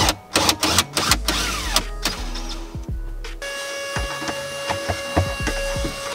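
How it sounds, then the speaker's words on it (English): A drill bores a pilot hole into wood inside a truck camper for mounting a water faucet. A few sharp knocks come first, then a steady, close motor whine holds to the end. "Now, pilot hole."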